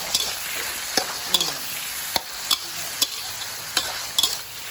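A spatula scrapes and stirs seasoned straw mushrooms in a hot pan. Sharp metallic taps and scrapes come in an irregular rhythm over a steady close sizzle.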